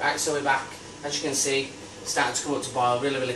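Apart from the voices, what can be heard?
No everyday noise stands out behind the speech.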